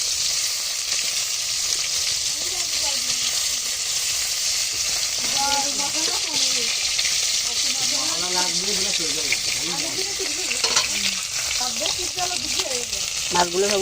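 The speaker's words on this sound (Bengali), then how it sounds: "মাছগুলোই পাশে একটু উল্টে নিচ্ছি।" Fish turned over and fried in hot oil in a wok on a wood-fired clay stove, a continuous close sizzle with bursts of spattering, under a voice speaking through the second half.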